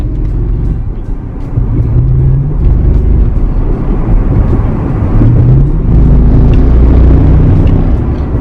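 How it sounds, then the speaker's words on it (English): Lexus LS400 engine running with worn motor mounts, a loud, heavy low rumble and droning vibration that swells in steady waves, close by and with no talk over it. "that is some massive vibration noises that wasn't happening last week"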